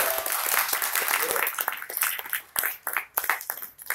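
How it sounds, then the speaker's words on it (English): Audience applause fills a hall at a live design discourse event, a dense wash of clapping that thins and breaks up toward the end, with a speaker's voice heard over it. "give applause to the French."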